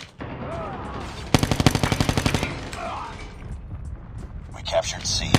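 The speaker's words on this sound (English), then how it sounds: "I hear shots." Gunfire in the mobile shooter COD Mobile: a rapid automatic burst of evenly spaced shots midway through, surrounded by game ambience and other scattered weapon sounds, with voices talking throughout.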